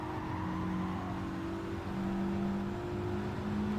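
A car's engine hums and revs in Gran Turismo 7, its pitch climbing and dropping as the gears shift, steady and moderately loud, with no voices.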